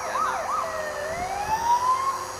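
An ambulance siren wails continuously, its pitch sweeping up and down in a loud, close wail with no talking.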